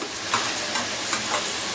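Two large onions fry loudly in a pan for an Andhra-style beans poriyal, giving a close, continuous sizzle with soft stirring strokes and no talking.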